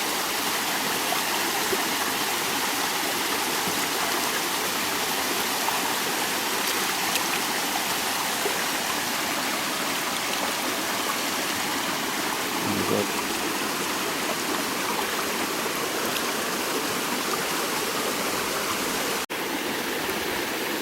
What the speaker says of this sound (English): It's just nice to relax and enjoy the water and the sound of the water